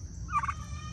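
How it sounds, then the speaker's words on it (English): A turkey gobbles once in a brief, faint warbling burst at a farm, heard from a moderate distance over a low background rumble. "He's gobbling."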